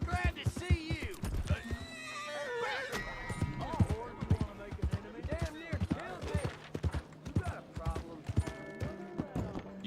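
In Red Dead Redemption 2, a horse whinnies and snorts up close amid clip-clopping hooves, while someone talks over the animal sounds.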